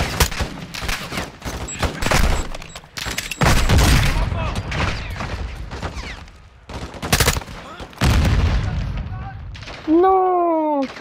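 Heavy gunfire and booming rocket-launcher blasts erupt in a Call of Duty Modern Warfare 2 firefight, dense bursts and loud impacts stacked over one another, with French-speaking players shouting over the battle.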